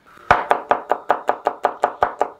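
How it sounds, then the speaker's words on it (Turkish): Hot kıl biber peppers being chopped with a knife on a board, about ten crisp, evenly spaced cuts in quick succession, close and clear with no talking. "Ben 1 kilo için yaklaşık olarak bir 8-10 tane biber doğrayacağım."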